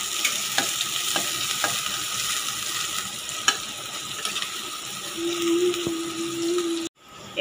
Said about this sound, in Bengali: এবার এই পেঁয়াজটা আগে আমি ভেজে নেবো, ভালো করে লালটে লালটেভাবে ভেজে নেবো।